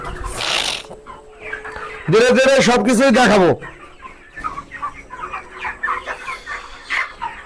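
Broiler chickens on a farm cluck and call in short bursts around a person speaking, with a loud, sustained vocal burst in the middle and scattered nearby clucks afterward.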